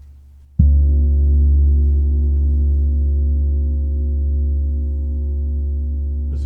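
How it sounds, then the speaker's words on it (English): Paiste Bronze gong struck at its center, a single sudden hit blooming into a deep, focused sustained hum with steady overtones that rings on loudly, slowly fading without decay to silence. "The center gives you just this very deep, focused, full sound with some high harmonics coming out."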